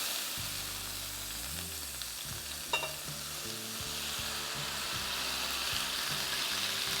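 Bourbon hitting a hot pot to deglaze it after cooking lamb chops, giving a steady loud sizzle and bubbling hiss that holds for several seconds, with a brief clink and some stirring scrapes.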